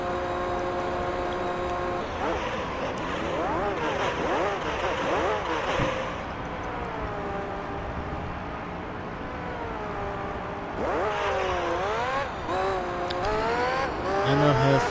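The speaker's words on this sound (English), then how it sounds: "I'm in 4th gear again, somehow I am still spinning the tyres" A Formula GT race car in Gran Turismo 3, on worn-out tyres, screams through its gears at Monaco, the engine pitch climbing and dropping in repeated sweeps while the tyres squeal and spin.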